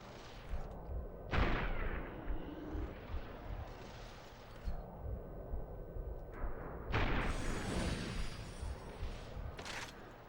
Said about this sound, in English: this one obviously is like a slow motion sniper rifle